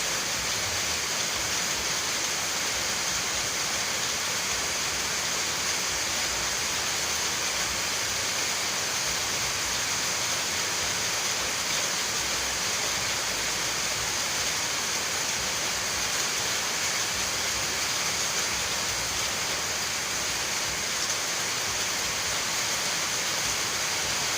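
Heavy rain pours down in a steady, dense hiss that stays even and unbroken throughout, with no voices.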